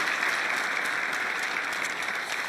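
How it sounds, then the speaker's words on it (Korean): Audience applause at a Chungcheong region high-tech industry development public briefing, a steady, full burst of clapping from a large crowd, alone without speech. "네, 박수로 동의해 주시기 바랍니다."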